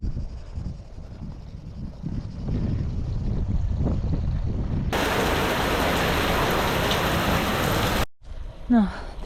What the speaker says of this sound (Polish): trafiłam na mega ulewę